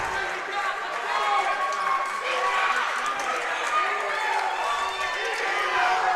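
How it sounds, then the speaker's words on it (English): A crowd at a varsity boys high school basketball game cheers and shouts continuously from the stands, a steady, moderately loud roar of many voices with scattered claps, with a commentator talking over it. "You got the crowd cheering for Suburban."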